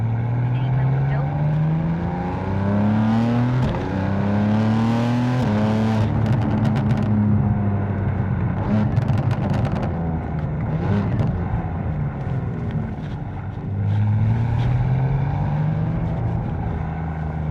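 BMW M4 with catless downpipes revving hard in a tunnel, a loud, echoing exhaust drone with rising and falling engine pitch sweeps throughout, continuous and close, with some talk mixed in.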